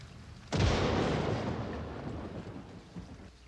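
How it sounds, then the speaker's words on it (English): Thunder from an electrical storm: a sudden loud crack that rolls into a long rumble and fades over a few seconds, heard alone with no talking. "Just an electrical storm."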